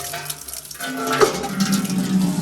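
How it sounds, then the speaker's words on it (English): Hot water runs from a tap into a mop bucket, a steady splashing gush that builds and fills out after a brief quieter start. "Let's bring some hot water. That's good and hot."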